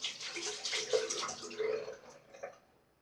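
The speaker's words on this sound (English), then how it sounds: "I need to just add more water to my bowl and work it longer" Water splashes and trickles into a shaving bowl while soap is lathered with a brush, a quiet, brief wet swishing that tapers off toward the end.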